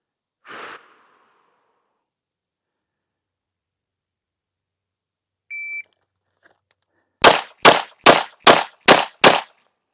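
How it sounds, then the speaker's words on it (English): Six sharp shots from a 1945 Colt 45 pistol fired in quick, even succession, loud and close, after a brief breath and a short electronic beep earlier on. "We're going to do instinctual fire again with another Colt 45"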